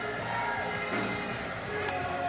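Crowd noise in a church live mix, its high end filtered away so a muffled, mid-heavy murmur of many voices and cheers runs steadily throughout.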